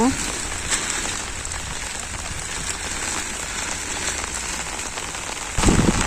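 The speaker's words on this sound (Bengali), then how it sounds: "বন্ধুরা বৃষ্টি আইসে পড়লো" Steady rain pours down in a village, a dense even hiss of drops striking surfaces that swells a little louder near the end, close and continuous.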